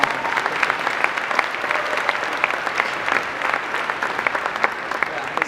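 Audience applause fills the room steadily, many hands clapping at once with dense, even crackle and no voices standing out, loud and sustained throughout.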